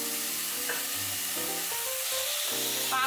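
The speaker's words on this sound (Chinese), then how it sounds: "爆炒一下它，我們都是用個中火來炒一下它，炒它1分鐘左右。" Tomatoes stir-fried over medium heat in a pan of hot oil with a slice of ginger, a steady close sizzle with stirring scrapes running throughout and no voices.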